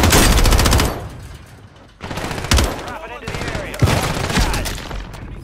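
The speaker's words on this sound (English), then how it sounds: "Oh no, I got shot from the left." Gunfire in Call of Duty Warzone on Rebirth Island rattles in loud automatic bursts. A long, close volley opens the stretch, followed by a brief lull and then further sharp rounds and rapid firing.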